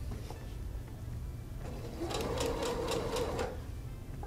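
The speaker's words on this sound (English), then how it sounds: "So maybe just do a few stitches at a time." A sewing machine stitches bias tape around the armhole of a shift dress, its steady motor whir rising in short bursts of a few stitches at a time, close and alone without talk.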